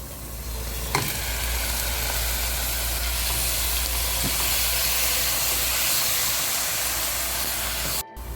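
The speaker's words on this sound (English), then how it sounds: "Now we will add minced mutton." Minced mutton fries in a pan for a homemade lasagna, a steady loud sizzle and hiss with a few faint clicks from the pan and no talking.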